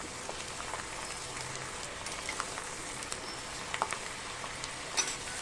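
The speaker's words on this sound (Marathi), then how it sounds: "शेंगदाण्याची ती हलकीशी ब्राऊन होऊन तडकेपर्यंत तळून घ्यायची" Peanuts frying in hot oil until lightly browned and crackling, for chivda, give a steady soft sizzle with scattered small pops, fairly faint and close, with no talking.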